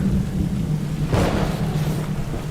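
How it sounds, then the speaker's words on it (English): A storm rolls through with dense, steady pouring rain and a low rumble of thunder swelling briefly near the middle. "Lightning zapped and thunder clapped,"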